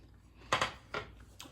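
Crunchy chocolate bark bitten and chewed up close, two sharp snapping crunches followed by softer crackling chews, faint and brief in a quiet room.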